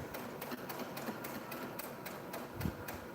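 Fast, steady mechanical clatter of a sewing machine stitching fabric for a surgical mask at an even pace, fairly close, with a faint thump near the end.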